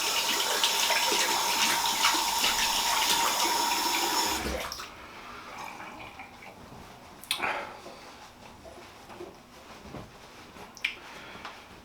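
A tap runs during a wet shave, a loud steady gush of water that stops abruptly partway through, followed by quieter scattered splashes and small clicks.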